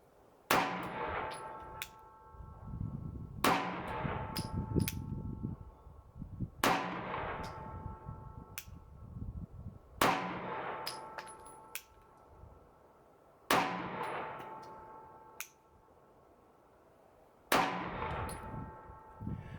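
Six sharp shots from a small Sig Sauer P365 pistol at a shooting range, spaced a few seconds apart, each a loud crack with a bright metallic ring and a quick decaying tail, and no voices.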